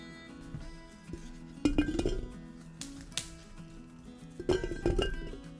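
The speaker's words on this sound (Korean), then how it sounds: "소독된 유리병에 마늘을 담아주고 물과 식초를 같은 양으로 부어주는데요" Garlic cloves dropped into a sterilized glass jar for pickling give a run of light clinks and knocks in two bursts, close and fairly quiet, with no voices.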